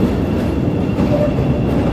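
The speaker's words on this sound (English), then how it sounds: "Here, we'll get the train coming out of here." Elevated train rumbling along an overhead track on a Chicago city street at night, a loud, steady, continuous roar with rail clatter sustained throughout, no talking.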